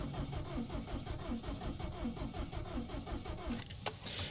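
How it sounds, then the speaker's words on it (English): A Subaru STI engine, cylinder 4 low on compression, cranks on the starter with an uneven rhythmic chugging, one beat in each cycle lagging, steady and fairly close until it cuts off near the end. "That's kind of a telltale sign that one of the cylinders is a little bit low on compression, the uneven cranking."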